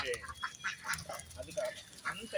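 Ducks being fed by hand quack and chatter in short, scattered bursts, close and fairly faint, while people talk over them.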